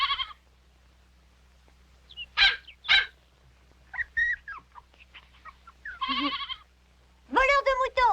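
A lamb bleats in short, high cries, several separate calls spaced out over quiet background, near and fairly loud.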